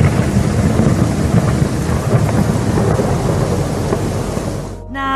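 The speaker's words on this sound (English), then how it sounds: "Lightning struck the top of the New World Trade Center last night." Thunderstorm rumbling over the New World Trade Center in New York, a heavy, continuous low roar of thunder mixed with rain that stays loud and then cuts off abruptly near the end.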